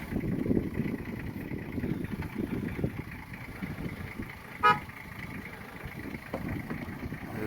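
A jeep grinds along a rough, difficult mountain track in cold weather, its engine rumbling unevenly with bumps and clatter, and one short horn toot sounds about midway through.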